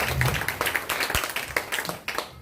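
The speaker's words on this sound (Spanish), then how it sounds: "¿Por qué no das un fuerte aplauso a Jesús?" A church congregation claps in a short burst of applause, loud and close at first, with a voice briefly audible among the clapping.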